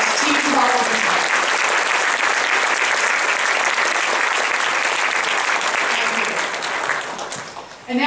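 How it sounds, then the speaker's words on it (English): Audience at a Veterans Day program applauding, a loud sustained wash of clapping from a crowd that fades out near the end. "So let's give a brief moment of applause to the men and women that serve these veterans every single day."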